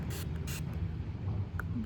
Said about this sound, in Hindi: हम इसके स्प्रे को टेस्ट करेंगे.